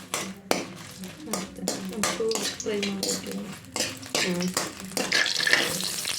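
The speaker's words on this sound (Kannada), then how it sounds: "ಈರುಳ್ಳಿ ಟೊಮೊಟೊವನ್ನು ಹಾಕೊಂಡು ಸ್ವಲ್ಪ ಫ್ರೈ ಮಾಡ್ಕೋಬೇಕು" Onions frying in a pan during preparation of an egg and chicken bassaru curry, with steady sizzle and repeated scraping stirs of a spatula against the pan, close and fairly loud, mixed with talk and some kitchen clatter.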